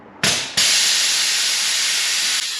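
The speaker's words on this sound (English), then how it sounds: "Now let's have a look at the air suspension." Air suspension on a VW Scirocco show car lets out a sharp burst of hissing air, stops briefly, then resumes as a loud, sustained hiss that cuts off near the end.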